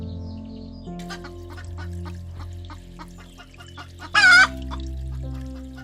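An old Chinese breed of small hens, barely over a kilogram, clucking in a run of repeated close clucks, with one sharp loud squawk or crow near the end.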